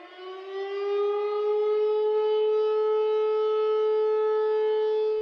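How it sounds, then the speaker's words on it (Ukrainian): An air raid siren in Belgorod holds a single steady wailing tone, rising in over the first second and then sounding loud and sustained to the end, with no voices. "сьогодні у Білгороді знову повітряна тривога"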